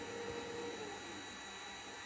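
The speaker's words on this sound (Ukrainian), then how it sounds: "ну фен зараз гріє" A hair dryer runs and heats at about 150 degrees, drawing roughly 300 W from a portable charging station, giving a steady, fairly quiet whooshing drone of blown air that holds even throughout with no talking.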